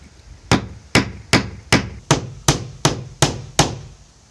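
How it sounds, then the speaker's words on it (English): Nine evenly spaced hammer blows drive nails into a wooden lean-to shed roof board, each a sharp close knock with a short ringing decay, steady rhythm and no talk. "we can think about nailing it in place"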